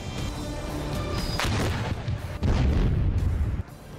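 Artillery cannon fire booms out in heavy, rolling blasts, with a sharp report about halfway through followed by a louder, sustained roar that cuts off abruptly near the end.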